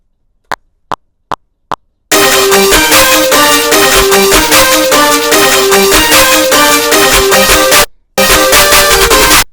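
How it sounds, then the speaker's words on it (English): Trap beat with layered snares and rapid snare rolls over a repeating melodic loop, preceded by four sharp isolated hits; loud and continuous with a brief dropout near the end. "put that shit in, and then use snare rolls for these type of beats too"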